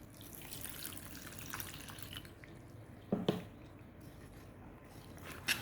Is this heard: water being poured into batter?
yes